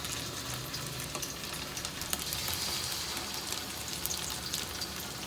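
Kacha keema kababs fry in hot oil with a dense, steady sizzle and crackle throughout, close and loud, with no talk over it.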